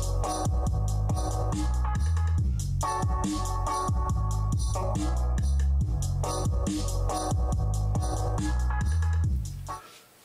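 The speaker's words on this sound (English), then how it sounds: "listening in with the 808s or whatever and everything all combined sounds like this." A full beat plays with booming 808 bass hits layered under drums and melodic parts, steady and loud for about ten seconds before cutting off abruptly at the end, with no talking.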